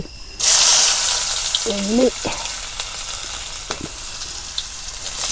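Mustard seeds and curry leaves frying in hot oil, giving a loud, steady sizzle that flares up at the start and keeps crackling, with a few scattered pops and a short voice-like sound partway through.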